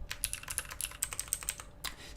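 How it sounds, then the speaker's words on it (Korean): Clicky switches on a custom Lunefocus U60 UNO&DOS mechanical keyboard, weighted like stock Cherry MX Blues, rattle off a quick run of sharp, chirpy clicks up close, uneven and busy with short gaps, with no voices. "이 째깍째깍째깍째깍 하는 요 참새가 지저귀는 그런 소리."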